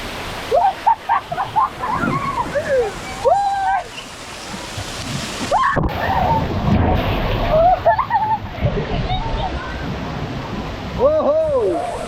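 Rough, churning water splashes loudly around a wave pool at Wonderla Chennai water park, a continuous wash broken by bursts of splashing, with excited shouts and screams from people nearby over the top.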